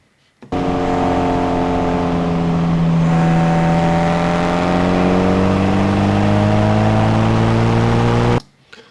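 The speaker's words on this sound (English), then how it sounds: "So we're mainly just hearing exhaust and engine." A car's engine and exhaust drone while it drives, recorded outside the cabin. The steady loud roar rises and falls gently in pitch as it speeds up and slows, starting and stopping abruptly, with no talk.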